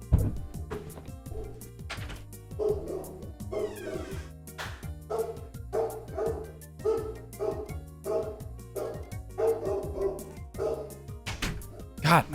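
A pet dog barks repeatedly in short, punchy bursts indoors, loud and close, with brief whimpers mixed in over background sound.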